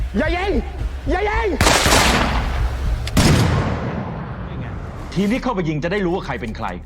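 Police gunfire in an action film, heavy booming shots and a burst of bangs between stretches of raised voices, loud and close.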